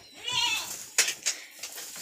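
Stall-fed goats on an enclosed goat farm: one wavering, nasal bleat rings out close by, followed by a few sharp knocks and rustles in a quiet pen.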